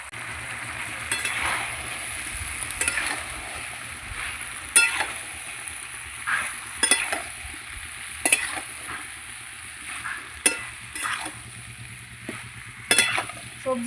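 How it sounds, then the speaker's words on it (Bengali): Fried vegetables sautéed together in a pan for dudh shukto, giving a low continuous sizzle broken by sharp spatula scrapes and clinks against the pan every second or two. "এবার আমি সবজিগুলো দিয়ে দেবো দিয়ে একসঙ্গে আবার কষাবো"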